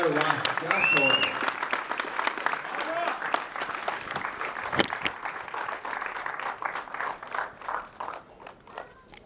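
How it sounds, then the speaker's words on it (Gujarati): Audience applause at the premiere of a Gujarati film, a sustained crowd clapping that swells early and gradually thins toward the end, with voices and cheers mixed in. "થોડી વધારે તાળીઓ માંગીશ કેમ કે એક શોટ માટે લોકો કહેતા હતા કે યાર વાહ ક્યાં શોટ."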